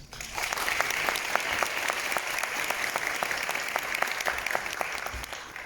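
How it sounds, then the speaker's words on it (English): Audience applause at the closing ceremony of a Korean Culture Week event, a sustained dense clapping from a sizable crowd, fairly loud and even throughout, with no talk over it. "Please give them a big round of applause."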